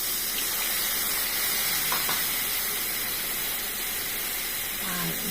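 Prawns frying in a pan as gravy is poured in, giving a steady broad sizzling hiss with steamy bubbling that holds close and even throughout, with no talk over it.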